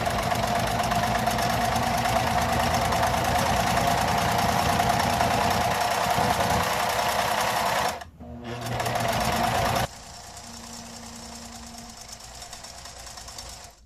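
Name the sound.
sewing machine stitching hat panels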